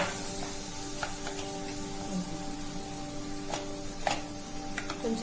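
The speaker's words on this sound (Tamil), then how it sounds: "அடுத்து நம்ம சின்ன சின்னதா கட் பண்ணி வச்சிருக்கிற தக்காளியும் சேர்த்துக்கலாம்." Chopped tomatoes sizzle in a hot pan for a broccoli fry, a steady, fairly quiet hiss and crackle running throughout with a few brief sharper pops.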